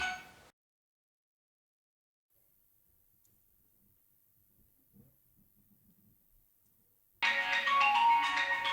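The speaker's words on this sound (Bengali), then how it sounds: "এটা কি বারবার ফোনের উপর ফোন করছে কেন" A phone ringtone cuts in loudly after several seconds of near silence, following a short burst at the very start; the ringing is close and carries on to the end.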